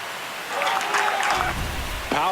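Home crowd cheering in a stadium baseball game in MLB The Show 26, a broad roar swelling after half a second and holding loud, with a commentator talking over it.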